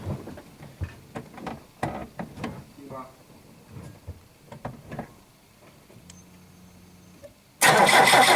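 People talk over a faint steady hum, then the engine of a Polonez Caro Plus car abruptly starts near the end and roars loudly, drowning out everything else.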